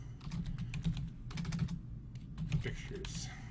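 Someone types a folder name on a computer keyboard: quick clusters of close, clicky keystrokes separated by short pauses.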